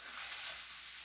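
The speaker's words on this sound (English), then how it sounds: "These onions are browning nicely. We are doing them over low heat so that they don't burn or get crisp." Onions browning slowly over low heat for a rustic tomato tart, giving a faint, even, continuous sizzle with no voices.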